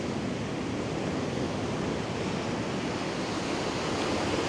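Steady broadband roar of storm surf breaking on the shore at Arcadia beach, Odesa, close and continuous, with a wash of wind noise and no voices.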